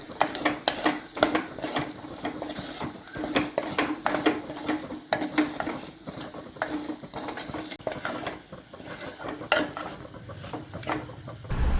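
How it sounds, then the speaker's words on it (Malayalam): Papaya curry ingredients sautéing in a pan, with repeated rhythmic spatula scrapes and clinks against the metal over a soft sizzle, close and moderately loud, no voices. "ഇനി ഇതെല്ലാം കൂടി നമുക്കൊന്ന് വഴറ്റിയെടുക്കാം."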